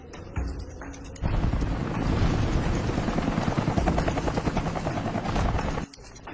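A helicopter arrives and lands on open farmland, its loud rotor chop and engine roar rising sharply after a brief quieter start and holding steady for several seconds before cutting off abruptly.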